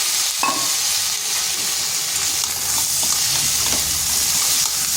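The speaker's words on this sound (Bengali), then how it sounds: "এগুলোকেও একটু ভেজে নিচ্ছি" Steady, loud sizzling of pumpkin-leaf stalks frying in a pan, with occasional scraping and stirring, continuous throughout with no talking.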